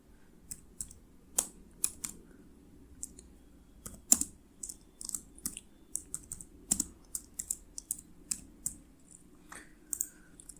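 Someone types on a computer keyboard in a quiet room, sparse irregular clicks of individual keys with short pauses between bursts, close and fairly soft.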